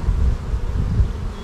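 Bees buzz steadily around a hive frame full of sealed brood, a dense low drone with some wind rustle, loud and continuous and without voices.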